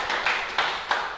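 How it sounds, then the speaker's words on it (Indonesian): Brief scattered applause for the winner of a traffic-safety quiz, a soft, continuous patter of hands with a few sharper claps standing out, fairly quiet and without voices. "Tepuk tangan dulu dong."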